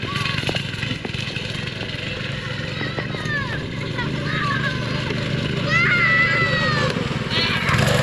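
Children playing outdoors in light snow on a farm near Ocean City, Maryland, shrieks and excited calls over a steady engine drone, with a voice talking through the scene.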